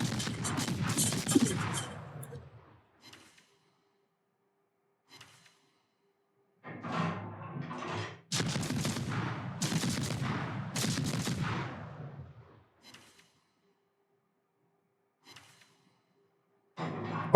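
Deep booming salvos from a USS Johnston destroyer's guns in a naval battle game, with loud broadband blasts at the start and again midway, separated by quiet gaps and faint scattered sounds.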